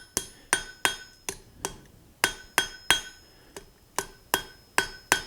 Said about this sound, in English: So again, very light hammer blows.